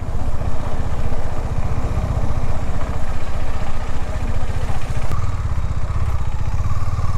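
A motorcycle engine idles nearby with a steady, rapid chugging rhythm that shifts slightly in pitch near the end.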